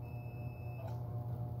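A multimeter's continuity buzzer sounds a steady, faint high beep while testing an Asahi rice cooker, then cuts out just under a second in, leaving a low background hum.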